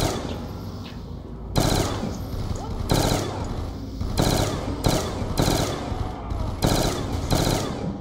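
Bursts of automatic gunfire in Call of Duty Black Ops 2 Zombies, including a Python revolver, erupt in about five loud rapid volleys separated by short quieter gaps, close and sharp.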